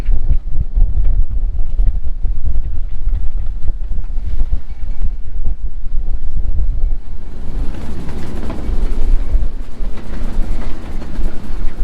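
Strong wind roars across Simpson Bay Lagoon in Sint Maarten, a loud constant buffeting rumble that grows into a broader, hissing gust in the last few seconds.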